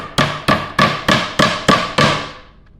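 Six sharp, evenly spaced hammer blows drive a fastener into a mixed-material nightstand during assembly, each strike ringing briefly before the next, close and loud with no talking.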